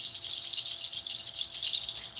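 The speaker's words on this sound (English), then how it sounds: "I used this bracelet because to me it sounds like water." A beaded bracelet is shaken continuously, giving a dense, close, bright rattle of small beads that swells and fades in waves, much like trickling water, with no voices.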